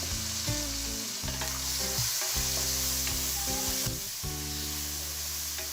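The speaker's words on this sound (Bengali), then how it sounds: "এখন এই পেঁয়াজ মরিচের সাথে চিংড়ি মাছটাকে আমি ভালো করে নেড়ে নিচ্ছি ভেজে নিচ্ছি" Shrimp frying with onion and chili in a pan, a loud continuous sizzle with stirring and scraping throughout, close up and without speech.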